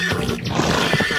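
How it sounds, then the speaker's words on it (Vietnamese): A horse whinnies in a drawn-out, wavering call that rises and falls over a busy, somewhat noisy background. "Đó là một con ngựa các bạn ạ."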